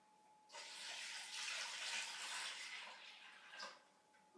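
A jug of water is poured into the top of a ten-stage mineralising and magnetising home water filtration unit, a steady splashing pour lasting about four seconds, close and fairly quiet.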